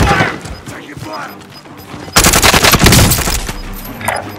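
Gunfire in a Call of Duty match: loud dense automatic bursts erupt midway and rattle on for over a second, with scattered shots and game voices around them.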